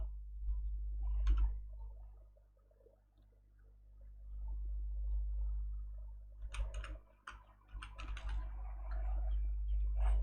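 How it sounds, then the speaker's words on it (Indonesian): Someone types on a computer keyboard while entering commands to configure an FTP server on Debian 8 Linux. Quiet, close, irregular key clicks come in clusters over a low steady hum. "kita ketikkan di sini sintaknya atau perintahnya"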